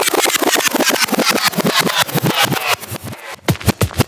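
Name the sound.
orange Cadillac car engine running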